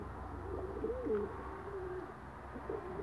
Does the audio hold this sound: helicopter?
no